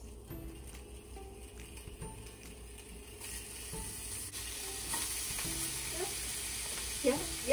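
Sausages laid into a hot pan sizzling at home for breakfast, a soft steady frying hiss that grows slightly louder partway through, with occasional clinks and faint talking in the background.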